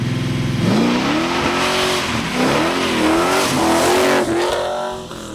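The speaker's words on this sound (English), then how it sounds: "we love the sound of a rumbling Big Block through the stainless, X-piped Borla mufflers" A 1969 Chevelle SS restomod with a big-block V8, stainless X-piped Borla mufflers and a Tremec five-speed manual rumbles close and loud, its revs rising and falling in smooth sweeps before easing off.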